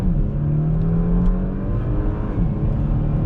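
A Porsche in Sport Plus mode with brake held and throttle floored launches hard: a loud, close engine roar holding high revs, its pitch sliding and climbing as it pulls away, with no talking.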